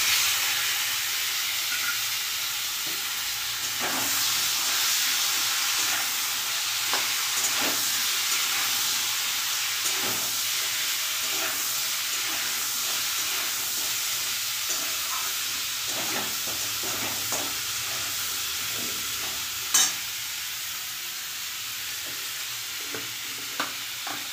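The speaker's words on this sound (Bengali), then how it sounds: "এবার আমি আলু পেঁয়াজ রসুনটা দিয়ে দেবো এর মধ্যে।" Potato, onion and garlic frying in oil with a rohu fish head for a chorchori, giving a continuous close sizzle with scattered clinks and scrapes of stirring and one sharper knock near the end. No one speaks.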